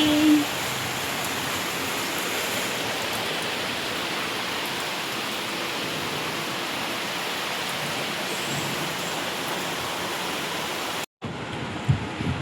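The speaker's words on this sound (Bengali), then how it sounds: "বৃষ্টি বৃষ্টি।" Steady rain falling in a dense, even hiss that continues unbroken for about eleven seconds before cutting off abruptly.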